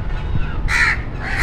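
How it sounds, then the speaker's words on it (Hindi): Two harsh crow caws ring out close by, one after another with a short pause, over a low background rumble. "ये कौवा डेली आता है यहाँ पे और ऐसी आवाज़ें लगाता है"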